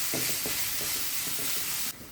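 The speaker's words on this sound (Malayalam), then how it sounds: "ആ സവാള നമുക്കൊന്ന് വഴറ്റിയെടുക്കണം." Two grated onions sauté in a hot pan for a dhaba-style chicken gravy. A dense, steady sizzle runs under quick stirring clinks and scrapes, then drops off sharply near the end.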